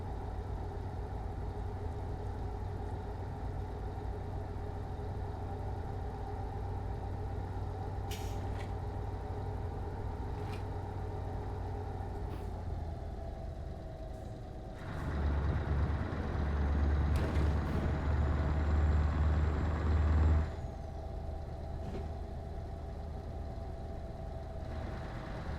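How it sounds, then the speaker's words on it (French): A simulated truck's engine in Euro Truck Simulator 2, on a drive from Rodez to Toulouse, hums along steadily, then surges into a louder, deeper rumble for several seconds before settling back, with faint brake hiss and no talk. "Ouais, il roule pas mal."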